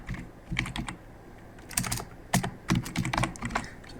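Wi-Fi settings are typed on a computer keyboard for a TinyDuino WiFi TinyShield, heard as close, uneven bursts of rapid key clicks separated by short pauses, with no talking.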